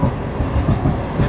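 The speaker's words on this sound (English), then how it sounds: "Got the tram going here. The preferred form of Polish transport." A city tram in Poznan rumbles past close by, a steady loud rolling drone with faint rhythmic wheel clatter, filling the street.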